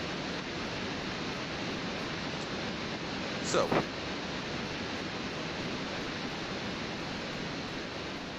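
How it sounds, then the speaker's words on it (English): Waterfalls in the VR video game The Talos Principle roar as a constant loud broadband rush, with a brief voice cutting in partway through. "And we're back with the noisy ass waterfalls"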